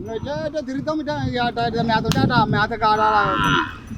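A herd of desi village cows being driven out to graze moo loudly and close by in overlapping calls, with people talking over them.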